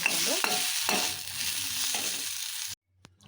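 Chana dal and coconut stir-fried in a pan, a steady close sizzle with scraping stirs and spoon knocks throughout, ending abruptly into near silence with one faint tap.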